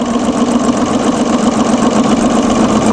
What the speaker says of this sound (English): So then I can go across here in the seam line and get to the next line that's not stitched yet and stitch across